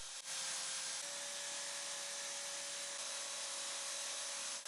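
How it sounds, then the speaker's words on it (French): A belt sander smooths the outer edges of hand-made sign letters, a steady, loud, continuous whirring hiss with a faint high whine, running alone without a break. "J'ai installé ma ponceuse à bande pour lisser les bords extérieurs."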